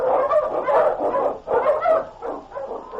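A husky sled dog in a radio drama gives a run of loud, close barks and yelps in quick bursts, with short gaps between them and no voices.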